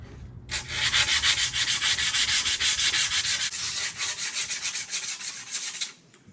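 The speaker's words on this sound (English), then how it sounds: "Now I sand down mine a little extra, you know. I'm sure you guys just heard it. That was a lot of sanding." Vigorous back-and-forth sanding on a wooden skateboard deck, a rapid rhythmic scraping that runs continuously for several seconds, close and loud, then stops abruptly.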